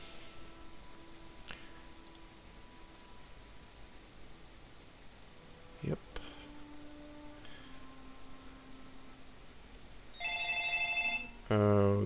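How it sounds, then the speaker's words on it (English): A phone rings in bursts of electronic tones near the end, over steady hiss and faint game background sounds during a Lord of the Rings Online play session. "that's my phone again."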